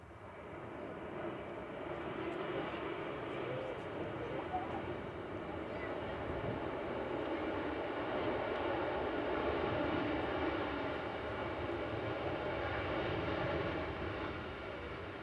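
A Jet2 aircraft arriving at Manchester Airport from Bergerac produces a steady, moderately distant jet engine drone that swells gently in the middle, with a voice talking faintly over it.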